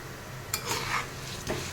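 Chana dal frying in a pan while being stirred, a soft continuous sizzle with a few scraping strokes of a spoon across the metal, close and fairly quiet.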